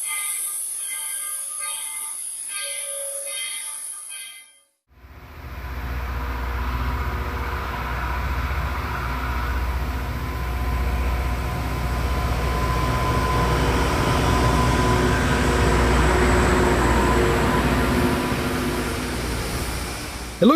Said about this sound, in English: This is a rail grinding car. As it rolls along the track, it smooths the rails and removes defects.